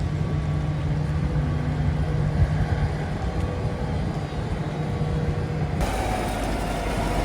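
A digger works nearby on a wet yard, its engine a steady, loud mechanical drone that holds throughout with a slight shift in tone near the end.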